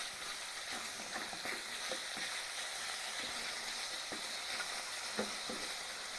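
Minced pork stir-frying in a wok for mapo tofu gives a steady, even sizzle, with faint scrapes and clicks of a spatula scattered through it.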